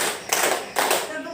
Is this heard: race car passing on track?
no